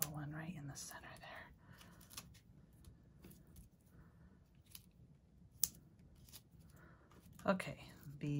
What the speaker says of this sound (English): I have gunky scissors that I use to trim my dimensionals in half for the skinnier sections.